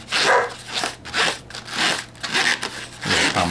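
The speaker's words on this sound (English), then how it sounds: "Commentary by one of our dogs" A dog barks indoors during a balloon-twisting session, giving a rhythmic string of about six loud, close barks with brief gaps between them.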